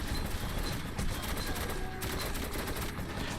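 Dense, continuous rattle of rapid automatic machine gun fire in the video game Metro 2033 Redux, loud and sustained throughout with no pause.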